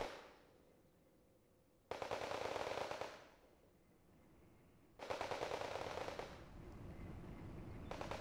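Machine gun fire from MG3s mounted on M113 A1G APCs in the Wargame: Red Dragon battle game, with two long, dense, loud bursts of rapid automatic fire separated by a quieter lull.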